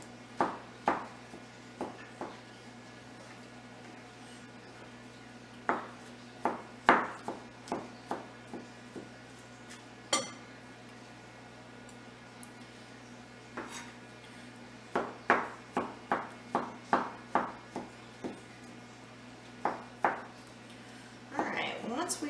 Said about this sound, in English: I'm just going to take a knife and chop these stems pretty small.